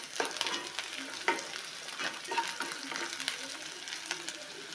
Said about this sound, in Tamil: கருவேப்பிலை, பச்சை மிளகாய், வெங்காயம் பொன்னிறமாக வதக்கணும்.